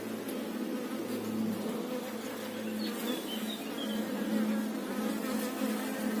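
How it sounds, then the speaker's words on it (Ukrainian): Honeybees from a hive colony drone in a dense, continuous buzz as a queen is released among them, the hum steady and close with individual bees whining past. "зараз пустимо цю матку до бджіл"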